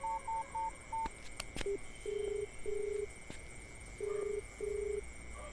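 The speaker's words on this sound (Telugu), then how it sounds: "నేను తనకి ఇప్పుడే ఫోన్ చేస్తాను." Telephone keypad tones beep in quick, evenly spaced sequences, first four short high beeps, then several longer lower tones, clear against a quiet hum.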